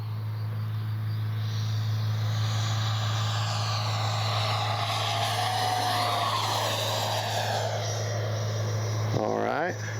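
Freewing Avanti S 80mm RC jet making a fast low pass on a windy day, its electric ducted fan a loud, continuous whine that swells and slightly shifts in pitch, with a steady low hum underneath throughout.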